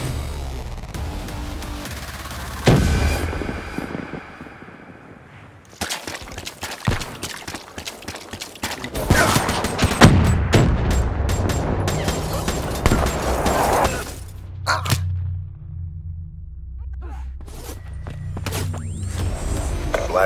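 Artillery strike in the video game Black Ops 3, bursts of explosions and rapid gunfire crashing in loud waves, with whooshes and mechanical clatter between bursts.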